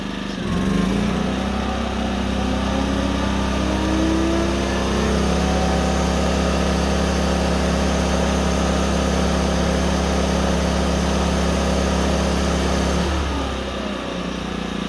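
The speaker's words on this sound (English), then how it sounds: "when I turn this on, the generator will throttle up to respond to the needs of the power right there" A small off-grid cabin generator engine drones steadily, its pitch and load shifting as it throttles up to supply power for a vacuum, a continuous close mechanical hum with no talk.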